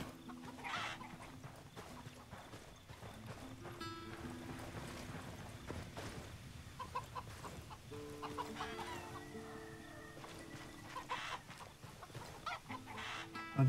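Chickens in the video game Tom Clancy's Ghost Recon clucking repeatedly in a village setting, several birds near and farther off over game music and ambience, with no talk.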